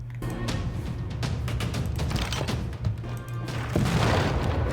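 Ranged bombardment of a city in Civilization VI, a string of heavy booms and crashing impacts over a low rumbling bed, with a louder burst near the end.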